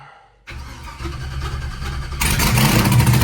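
An LS-swapped nitrous Chevy S-10 drag truck cranks and catches at about half a second, settling into a loud, lumpy idle close by, then the revs climb and the engine roars harder toward the end.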